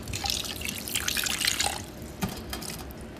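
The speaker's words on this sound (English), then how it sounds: "a little bit of water, just a little splash" A little splash of water poured into an artichoke dish in a pan, a brief splashing trickle and drips that settle after a couple of seconds, close and moderately loud.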